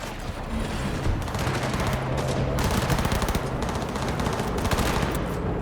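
Sustained automatic gunfire in the video game Cyberpunk 2077, a dense rapid rattle of shots with booming low end that keeps going for several seconds without pause.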